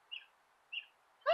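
Two short, high bird chirps about half a second apart, fairly faint, followed by a brighter burst of chirping at the end.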